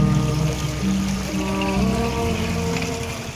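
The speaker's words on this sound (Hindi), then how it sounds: "पानी की जो आवाज़ है आप सुन सकते हैं" Floodwater flows into houses at night in a flood that killed many livestock, a steady broad rushing and trickling wash, fairly close and continuous with no speech.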